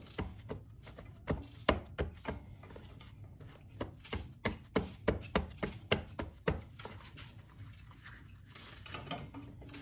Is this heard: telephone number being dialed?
no